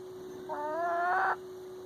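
An Araucana chicken hatchling gives a single short, close, trilling chirp of under a second over a steady background hum, with no other sounds.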